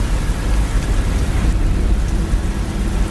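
Heavy rainfall in Dubai pours down as a loud, steady, dense roar of rain beating on surfaces, continuous throughout with no pauses.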